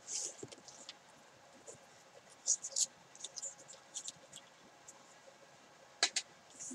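Paper being cut for card making, Doodlebug pineapple paper trimmed into pieces, gives soft intermittent scratchy snips and rustles at close range, quiet overall with a few sharper clicks.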